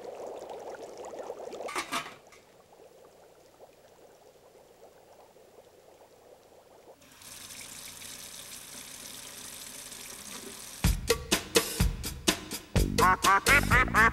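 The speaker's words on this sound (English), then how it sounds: "take Darkwing and put him under cold running water" Cold water runs from a tap in a steady, even hiss for a few seconds after a quiet stretch, then gives way to a burst of sharp quacking sounds.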